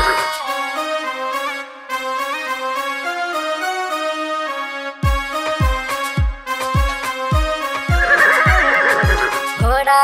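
A horse whinnies near the end of a Hindi children's nursery song, a loud high neigh over music and rhythmic beats.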